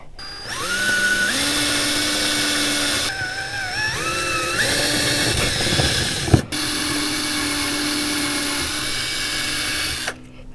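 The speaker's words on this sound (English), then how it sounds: "I was very careful not to let the drill bit go too deep." Power drill boring into a boat deck to fit a Millennium Marine monitor mount: a loud, close motor whine in short bursts that rises and falls in pitch as it speeds up and slows, with a sharp click partway through.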